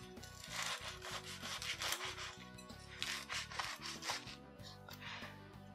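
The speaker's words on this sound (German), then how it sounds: "holen wir die Brötchen aus dem Backofen raus und dann schneiden wir die auf." Knife sawing through baked bread rolls fresh from the oven, for a Bavarian Wiesn burger: a steady, close scraping and rubbing rhythm of blade on crust lasting several seconds.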